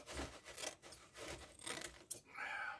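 Scissors snip through a strip of plaster cloth in a few quick, close rustling cuts, with scraping and handling noise between them and a brief sharper snip near the end.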